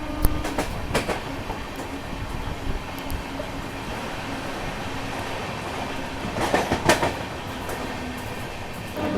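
A premium passenger train runs at speed through Hazrat Nizamuddin railway station in Delhi without stopping, heard from on board as a steady rumble with rhythmic wheel clatter and a few louder clacking bursts; no talk.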